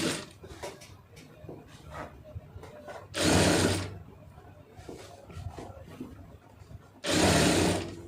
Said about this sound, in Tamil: நம்ம போட்டிருக்க தையல் மேலே வந்து வச்சு தச்சுக்கிட்டு வந்துடுங்க